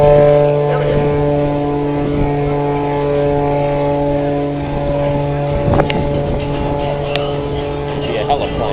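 A propeller airplane engine runs steadily with a strong droning hum and layered harmonics, close and loud throughout, with a brief burst of extra noise near the middle.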